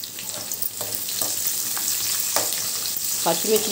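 Chopped onion pieces and green chillies fry with cashews in a pan for vegetable fried rice, a steady close sizzle broken by a few stirring scrapes, with no talking.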